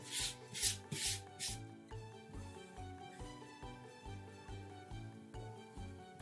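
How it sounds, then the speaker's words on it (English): Chalk paste is scraped with a squeegee across a transfer in a few short rasping strokes near the start, then continues faintly beneath steady background music. "I'm just using the squeegee to apply the paste all the way around the transfer."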